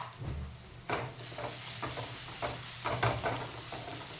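Ground spices such as turmeric, red chili powder and coriander-cumin added to hot oil for tempering, sizzling and crackling steadily with stirring scrapes, close by and without talk.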